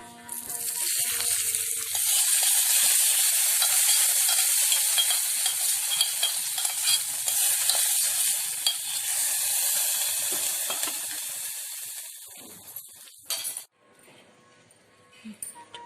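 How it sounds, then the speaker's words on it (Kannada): A loud, steady sizzle of hot tempering oil poured into yogurt for bitter gourd raita, hissing continuously for several seconds before tapering off with a few clinks near the end. "ಈ ಒಗ್ಗರಣೆನ ಈಗ ಮೊಸರಿಗೆ ಹಾಕೋತಾ ಇದ್ದೀನಿ."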